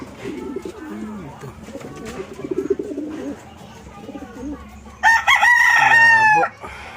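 Gamecock roosters kept as gift birds give one loud, close crow of harmonic calls near the end, after a stretch of speech mixed with low background bird sounds.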